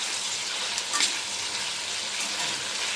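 Chicken curry fries in hot oil with turmeric, giving a steady bright sizzle with a couple of brief stirring bursts.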